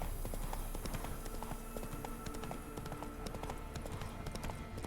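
Roach, the horse in The Witcher 3, trotting along with clear, steady clip-clop hoofbeats, close and continuous, over faint game ambience.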